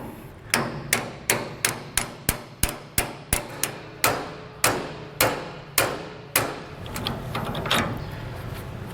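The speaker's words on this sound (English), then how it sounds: "we're going to hammer these to where they're flush" Bolts of a trailer curved equalizer are driven flush with a hammer: about a dozen sharp metallic strikes in quick, steady succession, then slower spaced blows and a few lighter taps, loud and close.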